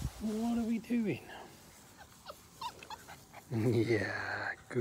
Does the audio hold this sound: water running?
no